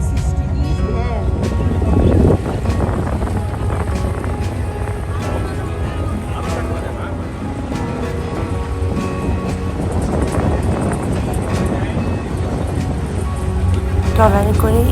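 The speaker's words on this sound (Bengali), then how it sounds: "ট্রলারে করে এই জার্নিটা আমার কাছে খুবই ভালো লেগেছে।" A trawler cruises through the Sundarbans with a steady low engine drone and rushing water and wind noise throughout, close and fairly loud, with a few thumps and knocks.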